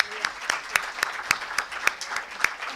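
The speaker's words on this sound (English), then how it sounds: "A big applaud, please." Sparse applause at a moot court prize distribution ceremony, with a handful of distinct, sharp claps ringing out in an uneven rhythm, moderately close and fairly light.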